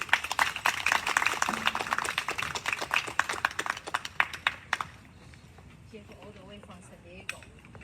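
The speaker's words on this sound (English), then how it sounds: "Let's give him another big round of applause" Dense, fairly loud clapping from an audience at a commemoration speech in Monterey Park, dying away after about five seconds, followed by a voice speaking.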